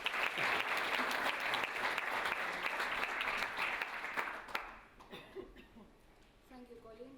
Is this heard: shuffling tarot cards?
no